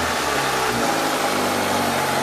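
A Honda CRX engine idles steadily with a continuous, even rumble, close up and fairly loud, with no voices.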